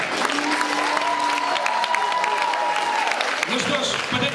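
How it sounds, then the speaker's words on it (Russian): Strong applause and ovation from the audience at a local beauty pageant in Gantsevichi, loud and continuous from start to finish, with music or voices faintly running beneath the clapping. "под эти бурные аплодисменты и овации наши конкурсантки готовятся идти к визитке к первому конкурсу"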